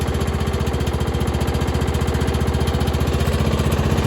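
A Troy-Bilt Bronco lawn mower engine runs steadily after starting, a loud, close, rhythmic small-engine chug with a fast even pulse and no talk over it.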